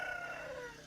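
A rooster crows outside a house, a loud, close, drawn-out cock-a-doodle-doo with a falling tail, filling the short moment on its own with no talk over it.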